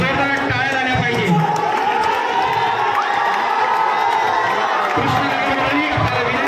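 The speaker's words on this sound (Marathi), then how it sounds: "जोरदार टाळ्या झाल्या पाहिजे." A crowd at an award presentation during a Dahi Handi celebration applauds and cheers loudly, with whoops and children shouting over a dense, continuous roar of voices.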